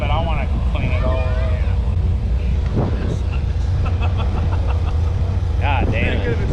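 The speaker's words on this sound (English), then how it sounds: "So it's just blowing exhaust out right now." A race truck's engine idles with a loose exhaust pipe blowing exhaust, giving a loud, steady low rumble close by. Voices and a few higher tonal sounds come in over it.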